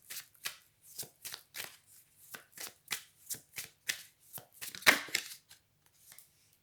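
A deck of cards being shuffled, a close, quiet series of about twenty crisp riffling and snapping bursts in an uneven rhythm, with no voice over them.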